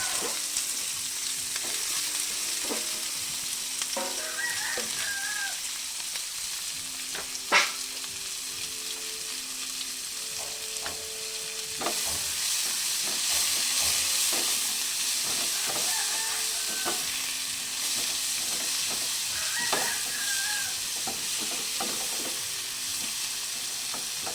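Sliced bitter gourd (ampalaya) frying in a pan, a loud steady sizzle and hiss with intermittent spatula scrapes and stirring clinks over about twenty seconds, no voices.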